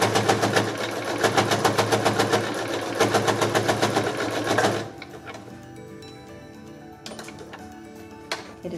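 A sewing machine runs in a steady, rapid clatter while stitching elastic onto a cloth face mask made from an old shirt, then stops abruptly, leaving a few quiet clicks and handling sounds.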